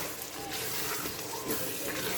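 Water streams steadily into a cooking pot of chana dal with bottle gourd nearby, a soft continuous pouring splash.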